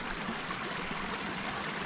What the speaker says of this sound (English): I'm just sitting by the little beck now